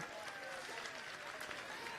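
An audience claps through a Hindi sermon by a Jain monk in Indore, a steady wash of applause from a large crowd, with the preacher's voice over it.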